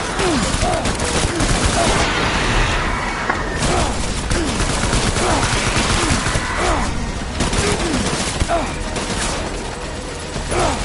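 Dense, continuous gunfire in the video game Death Stranding, with many overlapping shots forming a heavy fusillade, steady and loud throughout, with a voice briefly audible.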